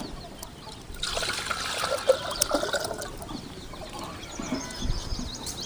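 Water poured from a small pot into a pan on the stove while roasted black horse gram is being prepared, a steady splashing trickle running for a few seconds at moderate loudness with no talk.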